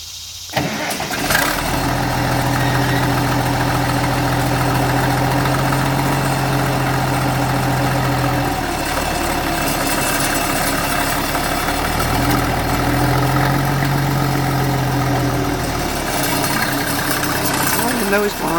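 A tractor engine runs steadily while pulling a 15 ft John Deere bushhog mower, a loud continuous low drone that shifts in pitch as it works, with voices heard over it.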